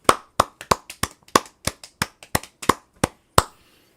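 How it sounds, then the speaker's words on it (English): About a dozen sharp, separate hand claps at an uneven rhythm, close and fairly loud, with no other sound between them. "everybody. Clap it up."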